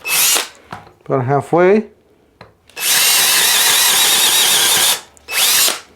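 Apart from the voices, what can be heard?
DeWalt XR 845 and Hercules brushless impact drivers driving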